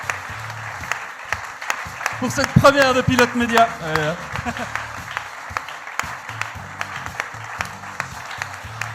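An audience at a demo day event applauds continuously, with dense close clapping running throughout while someone speaks briefly over it partway through.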